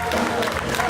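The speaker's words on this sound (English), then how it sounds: "I think she really deserves a round of applause" A crowd at a Huntington Beach surfing event applauds in a short, steady burst of clapping that fills the space.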